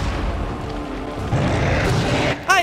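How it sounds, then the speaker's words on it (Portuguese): Explosions in the video game Resident Evil 4: a dense, continuous rumbling roar of booming blasts with a louder burst near the end, followed by a brief warbling electronic sound. "Tivemos explosões dessa vez."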